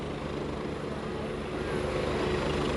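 A National Guard helicopter hovers during a flood rescue of a stranded motorist, its rotor and engine making a steady, loud, continuous whirring roar with no talk.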